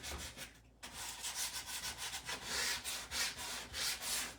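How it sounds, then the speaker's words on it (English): Steady back-and-forth hand sanding on a wooden step stool, a rhythmic scratchy rubbing repeated in even strokes, close and fairly quiet. "I'm just sanding away"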